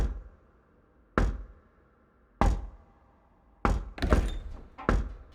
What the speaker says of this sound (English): And of course some door noises. I really love them in productions.